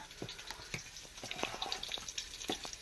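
Fish sambar with coconut masala and tamarind bubbling on a stove, soft irregular simmering pops and sizzles close by, with occasional clinks and faint background noise.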